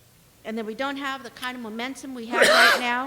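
A single sharp sneeze bursts out in a legislative session chamber, right after someone speaks in a calm voice.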